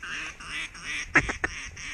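Mallard ducks quacking outdoors during a duck hunt before a snowstorm, a couple of sharp nearby quacks over a steady background hiss.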